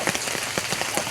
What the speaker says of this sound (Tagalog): Pumapatak na naman ang ulan sa bubong ng bahay.